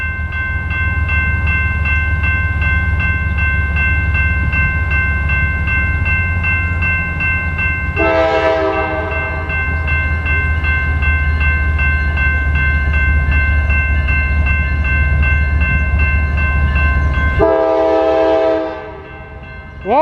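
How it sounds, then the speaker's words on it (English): CSX autoracks freight train rolling past at Fostoria, Ohio, a steady loud rumble of cars throughout, with two sharp multi-tone horn blasts around the eighth and seventeenth seconds. "We got a train coming."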